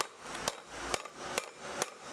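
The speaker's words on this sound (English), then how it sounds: "Tang then molds it by striking it over and over again." Steel heated to 1500–1600 °C being hammered by hand into a wok, four sharp metallic strikes spaced roughly half a second apart over a steady low workshop hum.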